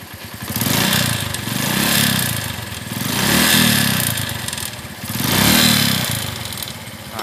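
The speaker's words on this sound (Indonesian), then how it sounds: "nah kedengeran ya suara pistonnya tuh" Suzuki Shogun Robot motorcycle engine revved up and down three times in smooth swells, with a rattling mechanical clatter of piston noise throughout.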